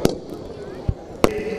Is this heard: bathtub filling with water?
no